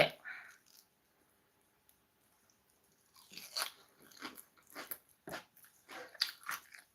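Crunchy bites into a carrot, a run of sharp crunching chews close to the mic after a quiet pause, with a short burst of chewing at the start.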